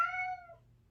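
A cat lets out one short, clear meow close by, which fades quickly into near silence.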